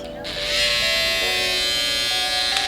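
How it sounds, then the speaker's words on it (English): A loud, close electric hair trimmer buzzing steadily for a few seconds without pause. "The only downside to this trimmer is it is fairly loud."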